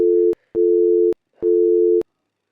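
Repeated electronic telephone tone: three steady beeps with short gaps between them, loud and clear, no voices.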